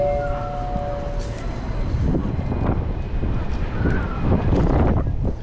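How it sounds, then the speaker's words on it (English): Wind buffets an outdoor street in Sweden, a constant low rumble of gusts against the microphone, with traffic noise and people talking over it. "Ooh, so windy."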